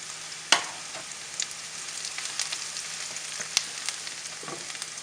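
Curry leaves frying in hot oil with onions that are browning: a steady close sizzle and crackle with a few sharp pops, one loud snap near the start, and no talking.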